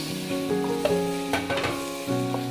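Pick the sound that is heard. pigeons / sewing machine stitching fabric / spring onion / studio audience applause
spring onion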